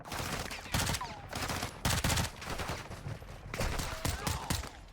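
Gunfire in the video game Modern Warfare II comes as repeated bursts of rapid shots under a constant battle din. Loud volleys hit at irregular moments over about five seconds.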